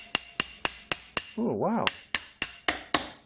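A hammer knocks a brass casting out of a steel mold in sharp, evenly spaced blows, about eleven, briefly interrupted by a short warbling whine; a voice speaks briefly.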